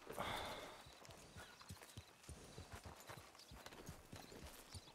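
Horse hooves clip-clop in a steady walking rhythm inside a Western video game set in a mining town called TumbleWeed, close and moderately loud, with a brief burst of wind or ambient noise at the start.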